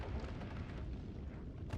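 Explosions and burning in the pixel-physics video game Noita, a continuous low rumbling roar of blasts that stays dense and steady throughout, with no talking.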